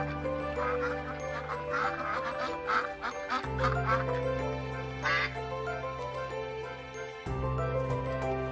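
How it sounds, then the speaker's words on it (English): Repeated duck quacks sound over a sustained musical background, several calls in a row, fairly close and clear. "Quack, quack, quack, say the ducklings."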